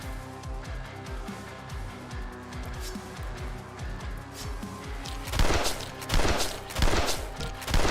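An explosion from a boomer enemy in a video game rings out among dense game noise, with repeated sharp impacts and bursts growing louder and harsher in the last few seconds.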